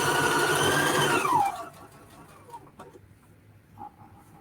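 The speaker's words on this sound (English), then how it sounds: "we just sew all the way around the inside edge" A sewing machine stitches around the inside edge of a fabric travel accessory: a loud, steady motor whir that winds down in pitch over about a second and a half, followed by quiet with faint handling clicks.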